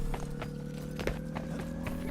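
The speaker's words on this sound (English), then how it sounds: "I hear the footsteps." Footsteps clatter in the video game Overwatch, a quick regular series of hard steps over steady game ambience and humming background tones.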